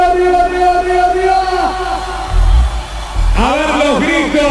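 Concert crowd at a show in Ranchillos, Tucumán, shouting and cheering in a loud continuous roar, with sustained music tones underneath and a surge of yelling voices near the end.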